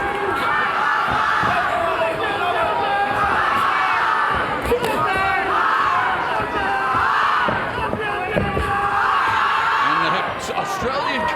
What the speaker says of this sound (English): Australian contingent with chants of oi, oi, oi in the crowd.